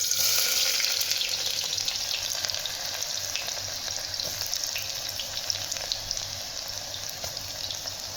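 Onions frying in hot oil in a home kitchen pan, a loud steady sizzle and crackle running throughout, close and without talk.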